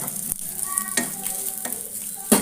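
Sambar vegetables and ingredients frying in coconut oil in a pan, with a steady sizzle, stirring scrapes and a few sharp clatters of a spoon against the pot.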